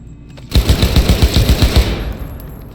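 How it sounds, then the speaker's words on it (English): Enemy gunfire in the video game Cyberpunk 2077 erupts as a loud, rapid automatic burst of a dozen or so close shots, lasting over a second before a short fading tail. "Cover can protect you from enemy fire."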